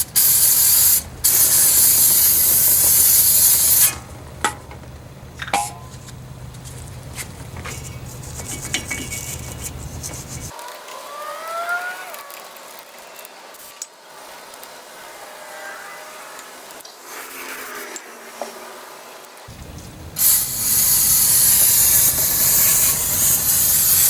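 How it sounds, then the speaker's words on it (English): Brake cleaner sprays loudly in long hissing bursts onto a rusted brake rotor on a 2010 Chevrolet Silverado, with quieter scrubbing and brushing between the sprays, all close up and without talk. "we're going to take our little brush and some brake clean. We're going to clean this up."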